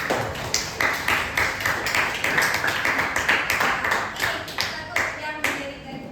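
A class claps together in a run of quick, fairly dense hand claps, close and lively, with some voices mixed in among the applause.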